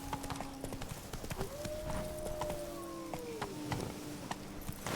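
A horse gallops in the video game The Witcher 3 (Blood and Wine expansion), its hooves clattering in a steady, rapid rhythm against a soft musical backdrop.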